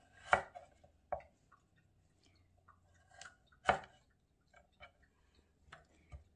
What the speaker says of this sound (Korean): 네, 당근 썰겠습니다